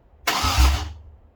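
Desert Runner's engine turns over for a single brief burst, with the starter wired directly: a close, gritty cranking whir lasting under a second, then fading, with no voices.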